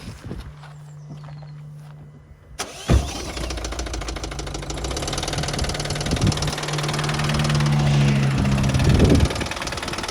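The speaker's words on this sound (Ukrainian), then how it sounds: "Застуканий мотор у машини цієї." A 2017 Ford Tourneo engine idles with a steady, rattly knocking after a quiet start with a thud, the mechanical clatter growing slightly louder and rougher near the end.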